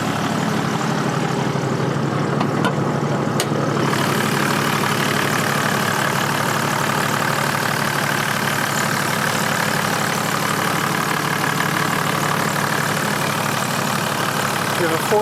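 A 1992 Toyota Land Cruiser VX 4WD with the 1HD 4.2-liter inline-six turbo diesel idles under the hood, a steady, even low rumble and hum that holds constant throughout.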